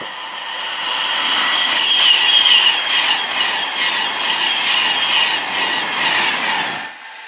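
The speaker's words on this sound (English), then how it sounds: "Two trains coming through now, one from Virgin Trains and the other from Southern" Two passenger trains pass at once through South Kenton on the West Coast Main Line, a Virgin Trains Class 390 bound for Birmingham and a Southern Class 377 for Milton Keynes: a sustained, loud rumble with clattering wheels and a brief high squeal, fading at the end.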